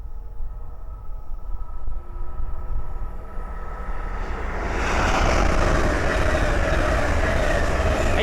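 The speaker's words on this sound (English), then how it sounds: "the next train to pass by is a pair of Hull Trains 801s from Bradford Fossil Square to London King's Cross" A pair of Hull Trains class 801 units, 801 107 leading and 801 104 at the rear, running on the East Coast Main Line at Great Wymondley. A distant rumble builds into a loud, sustained roar as they pass close by.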